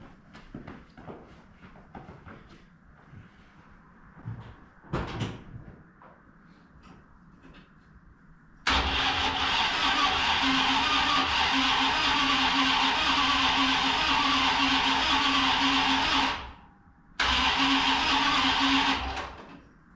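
After a few faint knocks and clicks, the engine of a 1976 Dodge M886 military truck starts and runs steadily and loudly nearby. It drops out briefly, then catches again and keeps running.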